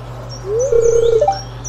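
Distant birdsong in the video game Stardew Valley, a single rising whistled call that holds and warbles before a short higher note, over a low steady ambient hum.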